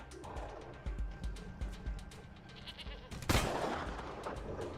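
A sharp burst of gunfire from the turn-based game Wasteland 3 cuts in near the end, loud and close, following quieter in-game ambience and soft interface sounds.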